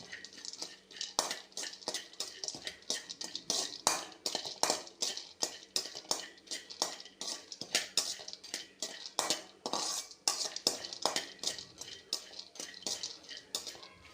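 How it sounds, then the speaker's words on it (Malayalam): Roasted peanuts stirred in a hot pan for an evening snack, a steady run of sharp metallic scrapes and clinks of a spoon against the pan, close and busy throughout, with faint frying underneath. "ഇതിലേക്ക് നമുക്ക് ആദ്യമായിട്ട് നിലക്കടല വറുത്ത് വെച്ചിരിക്കുന്നത് ഇട്ട് കൊടുക്കാം"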